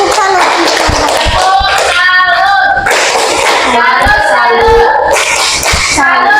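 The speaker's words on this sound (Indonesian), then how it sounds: "berikan tepuk salut" A classroom group doing a rhythmic clapping cheer, close and loud, with repeated hand claps mixed with voices chanting together throughout.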